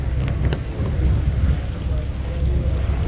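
Heavy rain pours steadily over the Meghna river near a launch ghat, a dense, continuous wash of noise with a low thunder rumble beneath it and no voices.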